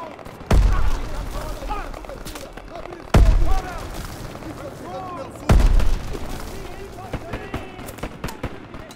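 Three heavy gunshot bursts with booming low-end impacts ring out in a Call of Duty WWII shootout, spaced a few seconds apart and loud and close, over a continuous bed of battle noise and voices talking.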